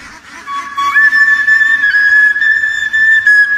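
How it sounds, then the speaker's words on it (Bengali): A clear, bright bamboo flute plays a sustained, wavering melody, loud and close, with soft background noise underneath. "তার বাঁশির সুরে পিছে পিছে ছুটে যায় হাজার হাজার হাঁস।"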